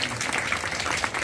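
A hypnotism show audience claps in dense, continuous applause, loud and close, without any talk over it.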